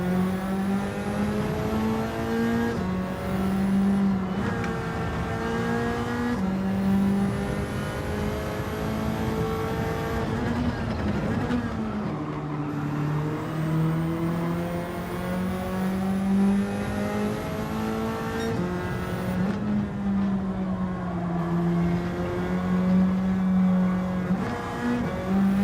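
Race car engine in Gran Turismo 7 during an online lobby race, revving up and down through gear shifts as the car brakes into corners and accelerates out, loud and continuous with brief tire squeal.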